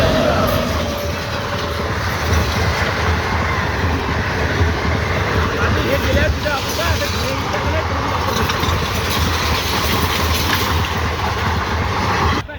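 A fast train rolls past close by with a loud, continuous rumble and rattling wheel clatter that lasts throughout, and voices are faintly mixed in beneath it.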